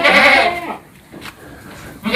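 Goats on an Indonesian goat farm, a couple of loud nearby bleats at the start and again at the end, with a quieter gap between them.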